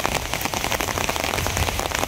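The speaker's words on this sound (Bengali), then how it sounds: "তো এখন আবার বৃষ্টি শুরু হয়েছে" Evening rain pours down in a dense, even patter of drops striking a nearby surface, loud and continuous with no voices.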